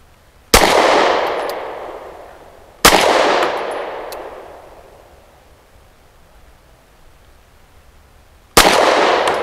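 Three sharp, loud shots from a Beretta APX A1 Compact pistol, spaced several seconds apart, each followed by a long ringing echo that fades out on an outdoor range.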